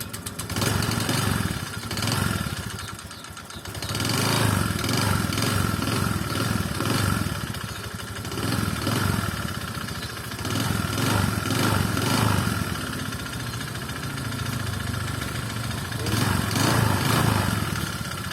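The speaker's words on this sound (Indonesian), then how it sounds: "Suara kletek-kletek ketika stasioner itu banyak dari sekernya" A Honda Vario 125 scooter engine idles close by with a ticking knock, a steady mechanical chatter that swells and eases slightly in loudness, with no talking.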